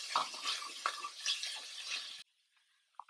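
Chopped onions stirred in hot oil with ginger garlic paste and green chillies for Peshawari chole, a steady sizzle with scraping spoon strokes that cuts off abruptly, followed by near silence and a faint clink.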